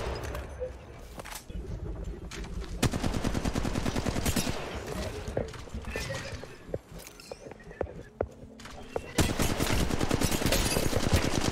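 Rapid automatic gunfire from Apex Legends Mobile rattles through repeated bursts, loud and close, with brief pauses between volleys and a heavy sustained stretch near the end.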